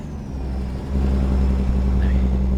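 Cummins N14 truck engine from an American Truck Simulator sound mod, a steady deep diesel drone that grows louder and heavier about a second in, then holds at an even idle-to-cruise rumble.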